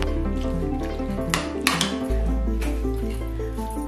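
Squid with lemon juice is stirred in a pan with a utensil, giving a few close scraping clinks and soft wet squishes over a steady low hum.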